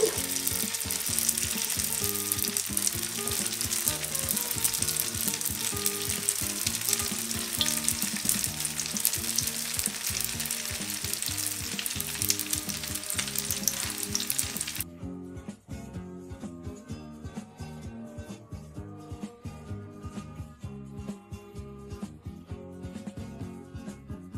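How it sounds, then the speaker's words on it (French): Small pastry triangles frying in a little oil give a steady, dense sizzle that runs throughout, a bright crackle at first that drops to a softer, quieter frying hiss halfway through, with no talking. "on vient faire frire tout simplement dans un peu d'huile nos petits triangles"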